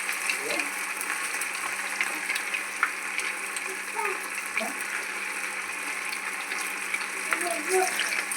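Chicken pakodi sizzles and crackles in hot oil over a medium flame, a steady frying hiss with scattered pops, accompanied by a voice talking.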